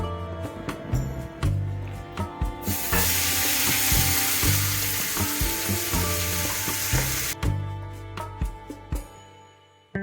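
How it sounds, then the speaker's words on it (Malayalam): Onions crackle and sizzle steadily in hot oil in a pan as the masala for a Malabar fish biryani gets started, with occasional stirring scrapes and no voices. "പിന്നെ നമുക്ക് കുറച്ചും കൂടി ഓയിൽ ചേർത്തതിന് ശേഷം അതിലേക്ക് ആദ്യം തന്നെ ഉള്ളി ഇട്ട് കൊടുക്കാം."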